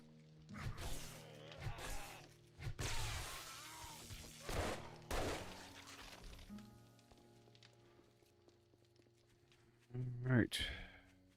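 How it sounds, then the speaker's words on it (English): A very loud gun in the game 7 Days to Die fires several hard, cracking bursts spread across the stretch, with someone talking between the shots. "That's a very loud gun there."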